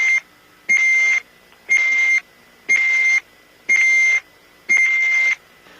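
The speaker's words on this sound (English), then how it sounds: "that series of beeps indicative of the fact that the International Space Station is about to pass within range of Russian ground stations" A series of six evenly spaced electronic beeps on NASA International Space Station communication audio, each a steady tone about half a second long, clear and alone against a quiet background.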